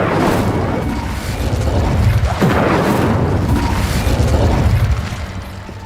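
A fire spell cast in Hogwarts Legacy bursts with a loud whooshing, crackling blast that swells and rumbles for several seconds before fading, with no talk over it.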